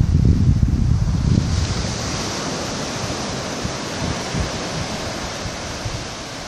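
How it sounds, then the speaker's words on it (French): Ocean swell and waves off Étang Saint-Paul on Réunion, heard as a steady broadband wash of surf, loudest in the first second or two and then settling into a continuous far roar mixed with wind noise. "Il y a un peu de houle là"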